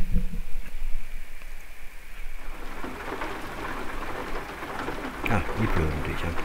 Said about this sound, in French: Ah, il pleut aujourd'hui, tiens.